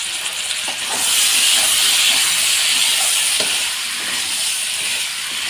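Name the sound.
water added to a hot pan of fish curry, sizzling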